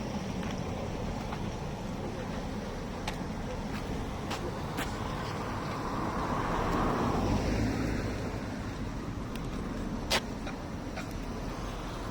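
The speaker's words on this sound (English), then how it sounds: "here in front of me there is an electric car" An electric car passes along a street in Telliskivi, Tallinn, its soft rolling hum swelling briefly over steady city background noise before fading again.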